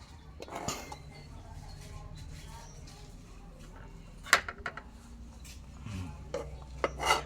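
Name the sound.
dishes clinking while being washed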